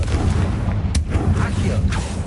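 Confringo blasting spells go off in the Hogwarts Legacy video game: two sharp, loud booms about a second apart over a dense, rumbling combat background.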